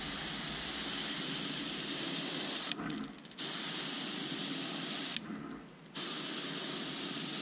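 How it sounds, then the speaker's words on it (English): Airbrush spraying a coat of color shifting paint, a steady close hiss of air and paint broken by two short pauses where the trigger is released before spraying resumes. "I am working the action a little bit more on this second coat with the airbrush, giving it a little bit more paint flow."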